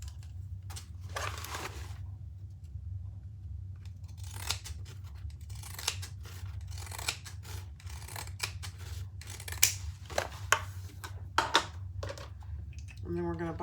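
Scissors snip and trim fabric while a bag is being sewn, giving a series of short, crisp cuts over a low steady background hum, with occasional quiet handling noises.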